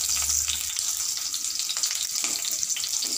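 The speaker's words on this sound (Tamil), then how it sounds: "இப்போ ஆயில் காஞ்சனுமே சின்ன வெங்காயம் போட்டுக்கலாம்" Small onions frying in a spoonful of hot oil for chow chow sambar, a continuous bright sizzling hiss with faint crackles and light scraping, close and steady, no speech.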